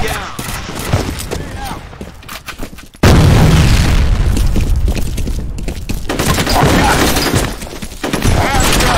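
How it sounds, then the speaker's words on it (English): A grenade goes off in the multiplayer shooter F.E.A.R. Combat, a sudden loud blast with a deep low rumble that cuts in abruptly, followed by sustained gunfire and battle noise. "Grenade"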